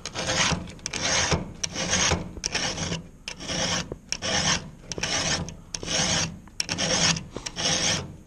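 Hand file rasping along the cutters of a chainsaw chain, about a dozen steady back-and-forth strokes in a regular rhythm, close and fairly loud, with no voices.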